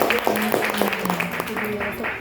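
An audience at an August 16, 2024 gathering in Indonesia claps in steady applause, with a speaker's voice over the top for the whole stretch.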